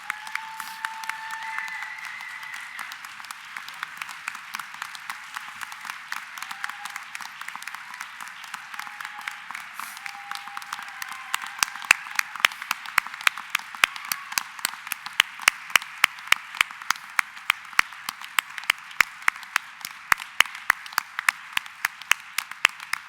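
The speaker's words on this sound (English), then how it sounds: "And I just want you to give them a round of applause, please." Awards dinner audience applauding scientists and clinicians, a crowd clapping steadily for over twenty seconds, with faint tones early on and sharper, louder individual claps standing out toward the end.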